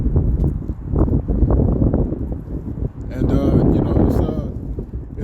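Strong wind buffets the microphone in heavy, rumbling gusts, with muffled voices mixed in.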